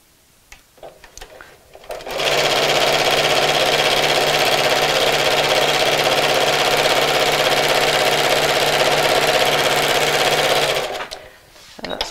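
A sewing machine stitching a seam on a fabric Christmas gift sack runs as a loud, close, steady whir for about nine seconds, then stops, with handling noises before and after.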